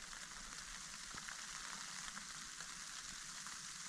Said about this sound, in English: that sound is wind.